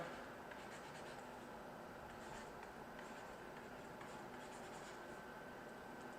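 Pen strokes scratch faintly and steadily as a chemistry problem is written down, with soft ticking scribbles under a constant background hiss.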